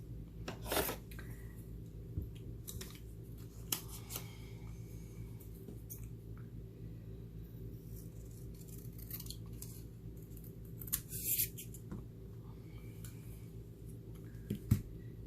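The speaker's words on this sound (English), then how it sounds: "So I'm just going to simply cut this in half." Scissors slice a sheet of card stock in half for a stamped greeting card, faint crisp snips scattered across a long quiet stretch over a steady low hum, with no talking.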